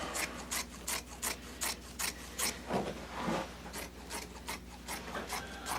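Upholstery piping for a club chair seat being cut, heard as a steady series of short rasping, snipping strokes in a brisk regular rhythm, close and moderately loud, with no talk.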